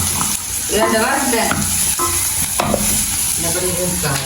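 Food frying in a pan while being stirred for a home-cooked garlic rice dish, with scraping stirs and a steady sizzle running throughout, close by, as a voice talks in the background.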